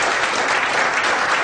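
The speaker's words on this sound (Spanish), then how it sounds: "quiero cerrar esta sesión dándoles un fuerte aplauso a nuestros panelistas" Loud, dense applause from an audience thanking panelists at the close of a social-impact session, a steady wash of clapping throughout.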